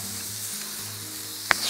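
Scallops and chorizo sizzle on a hot grill plate with flames licking over its edge, a steady close hiss broken by one sharp pop near the end.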